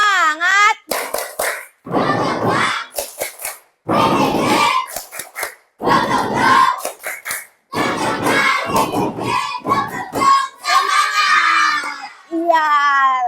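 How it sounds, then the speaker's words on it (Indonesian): Schoolchildren in a classroom do a rhythmic spirit clap, their loud, excited chanting and shouting mixed with bursts of hand claps over roughly thirteen seconds. "Coba kita tepuk semangatnya dulu yuk. Tepuk semangat."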